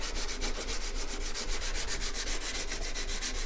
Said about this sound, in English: So I'm going to flip it over and do the other side. This is a 400 grit stone.